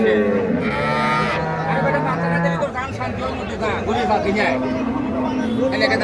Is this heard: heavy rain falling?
no